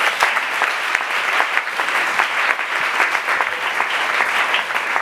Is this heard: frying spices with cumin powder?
no